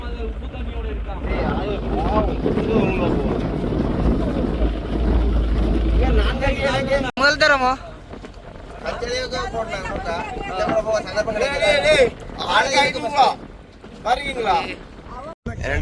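A boat heads back to shore from Palaitheevu island, its low engine rumble and wind noise running steadily beneath people talking throughout.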